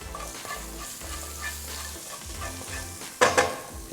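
Finely chopped ginger and green chili frying in ghee with cumin seeds and asafoetida, a low steady sizzle with stirring scrapes, then a sharper burst of crackling near the end.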